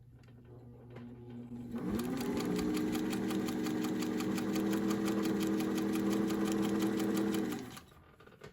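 A sewing machine stitches fabric, starting up after a soft click and running at a steady, loud, rapid whirring hum for about six seconds before stopping.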